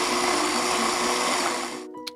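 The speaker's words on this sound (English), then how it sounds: "And I'm just gonna blend it until it's completely smooth." A countertop blender whirs steadily at full speed, blending vegan mascarpone cupcake filling of cashews, vanilla extract and full-fat coconut milk until smooth, loud and close, then cutting off abruptly near the end.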